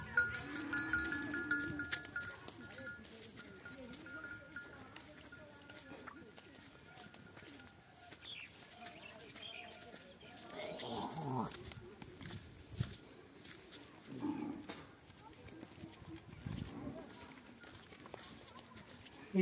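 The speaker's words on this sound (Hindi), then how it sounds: "गैया के साथ साथ बकरियां भी चराते हैं सब" Cows and goats grazing in a hilly forest area, with faint cowbells clanking, hooves and animal sounds scattered throughout at a distance, under intermittent talk.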